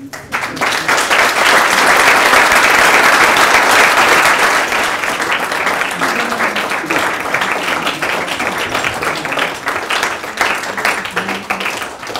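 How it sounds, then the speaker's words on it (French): A large crowd applauds continuously, loud and sustained, swelling early and then holding steady for several seconds. "Est-ce qu'on peut les applaudir, s'il vous plaît?"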